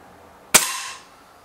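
A BSA Lightning SE air rifle fires a single sharp shot, a loud close crack that trails off quickly, with no talking around it.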